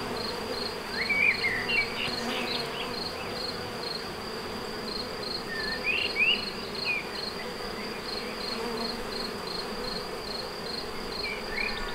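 Honeybees swarm around beehives at a first-year beekeeping site, producing a steady, dense insect drone throughout, with a few brief higher chirps rising above the continuous hum.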